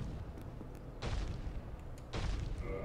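Two heavy fire-attack blasts from the Dark Souls video game land about a second apart, each a broad, loud whooshing boom over a rumbling game backdrop, with no talking.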